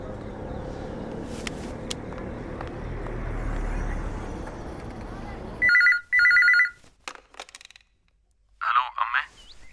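A telephone rings in a Malayalam movie scene. The call opens with low background noise, then comes a sudden cut to two loud electronic ring bursts, followed by quieter tones and one more ring burst near the end.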